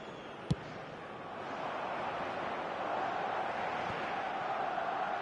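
A football stadium crowd cheers in a broad, sustained roar that swells a little midway, preceded by one sharp bang.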